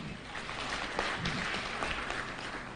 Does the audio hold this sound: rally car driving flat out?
no